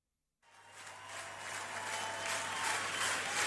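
A concert crowd breaks into applause and cheers after a brief silence, the clapping swelling quickly and staying dense and sustained, heard at a moderate distance.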